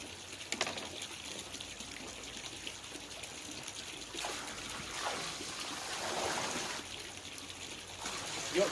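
Blanket weed treatment poured from a bucket into a garden pond makes a faint splashing trickle that swells in gushes, with a bird cooing in the background.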